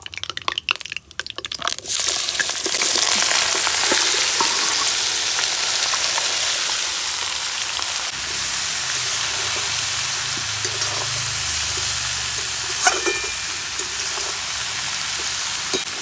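Fish curry mixture poured into hot oil for a Bengali fish chachchari: after a few brief clatters, a loud sizzle erupts and settles into a steady frying hiss with faint crackles, no talking.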